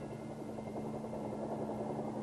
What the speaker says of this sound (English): most aerial delivery of these field pieces is being accomplished by huge Chinook helicopter sling delivery